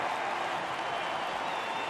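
Capacity crowd at Miller Park for the Brewers' home opener against the Cardinals, a dense steady wash of cheering and applause filling the stadium, continuous and fairly distant.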